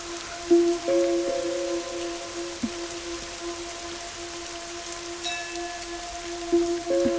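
Steady rain falls outdoors with a soft, even hiss, accompanied by faint sustained background tones, and no voices.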